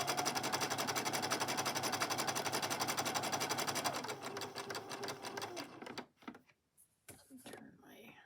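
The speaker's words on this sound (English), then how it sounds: "So I'm going to sew my way to number 1." A sewing machine stitches fabric with the presser foot set to very light pressure, a fast steady needle chatter that slows and stops, followed by a few soft handling clicks.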